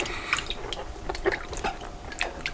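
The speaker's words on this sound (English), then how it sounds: "rinse them under tap water really good" Water drips and trickles from a kitchen tap over bell peppers being rinsed after soaking in apple cider vinegar and salt. The splashes are light and irregular at close range, and no one speaks.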